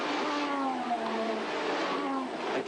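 Formula One cars racing closely at the 1983 German Grand Prix, rising and falling high-pitched engine whines overlapping as several cars scream past at a distance, continuous throughout.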